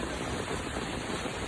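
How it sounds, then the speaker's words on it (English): Steady, dense rain pours down in Bangladesh, a constant broadband hiss that stays loud and even throughout with no voices over it. "but the way it's raining"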